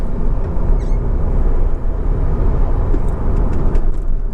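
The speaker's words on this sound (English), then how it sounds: "Going to give the brakes a bit of a shove in a second." A Honda Civic 2.2 i-CTDi SE diesel hatchback driving along with steady low engine drone and road and tyre rumble inside the cabin, loud and continuous while the car slows under braking.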